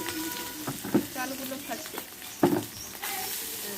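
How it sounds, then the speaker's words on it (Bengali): Rice tipped into a hot wok for fried rice at a family picnic, sizzling and frying with a couple of louder stirring bursts and clatters, while voices talk nearby. "চালগুলো এবারে কড়াইয়ের মধ্যে দেওয়া হচ্ছে।"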